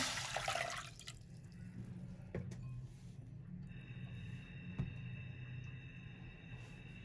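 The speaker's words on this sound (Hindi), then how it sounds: "ये 1 गिलास पानी डालेंगे।" A glass of water poured into a pot at the start of making sugar syrup for moong dal halwa, a brief splashing gush up front and then a soft steady trickle and low watery hum continuing.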